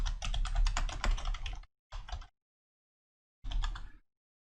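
Rapid typing on a computer keyboard, with close, crisp clustered keystrokes in short bursts separated by pauses.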